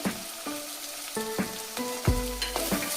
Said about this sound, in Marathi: पेस्ट ही छान अशी परतवून घ्यायची आहे।